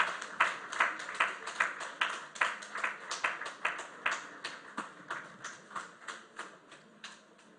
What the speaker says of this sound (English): Please keep clapping till he gets here.